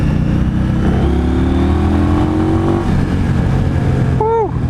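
A 2016 Indian Scout motorcycle accelerates hard on a test ride, its engine note climbing loud and close over steady wind rush, with a brief whooping voice near the end.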